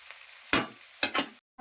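Boiled potatoes frying in an open, uncovered pan give off short bursts of sizzling and stirring scrapes, close and fairly quiet, with no voices.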